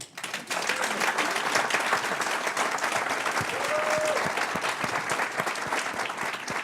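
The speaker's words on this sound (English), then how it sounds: "this is the only time I like for you guys to give an applause" An audience at a Dallas district attorney candidates forum breaks into sustained applause, with dense, steady clapping throughout the room and faint crowd murmur.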